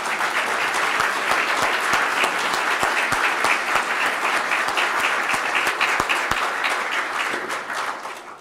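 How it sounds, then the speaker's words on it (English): Sustained applause from a large standing audience at a city's State of the City address, dense steady clapping that carries on for several seconds before tapering slightly at the end. "please rise and let's have a round of applause"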